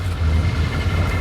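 A car engine idling in low gear with the brake held, the air conditioning running and the steering wheel turned to full lock, putting heavy load on the idle; a steady, close low rumble with no talk.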